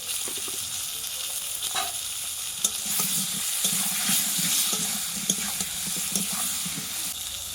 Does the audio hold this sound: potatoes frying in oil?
yes